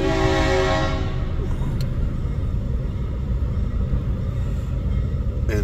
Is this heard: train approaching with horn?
yes